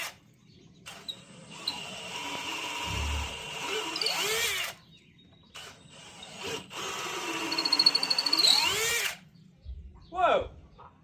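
A handheld power drill running during a gate build, whirring in two long sustained bursts at close range, with short pauses between them and people talking nearby.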